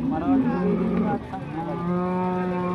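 Cows low at the Modnimb livestock market, with a couple of deep, sustained moos close by and faint crowd noise in the background.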